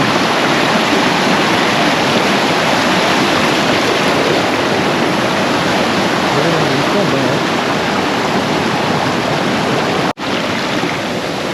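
Mountain stream rushing loudly and steadily in rainy weather in a hilly Nagaland area, a continuous broadband roar of flowing water close by, broken only by a brief dropout near the end.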